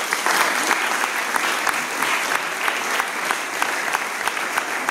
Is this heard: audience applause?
yes